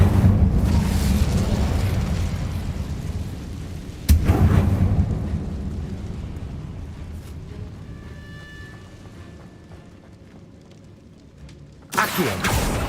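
The Incendio fire spell from Hogwarts Legacy goes off in two loud whooshing bursts a few seconds apart, each fading into a low rumble, with a third blast starting at the very end.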